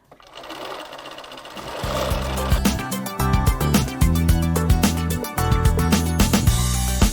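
A sewing machine stitches horizontal quilt seams in bursts, its loud rapid whirring starting and stopping several times, close up and free of talk.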